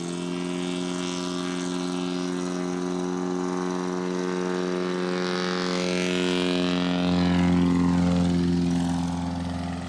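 STOL airplane taking off at the ArkanSTOL 2023 competition, a steady, loud propeller engine drone that swells toward the end as power builds.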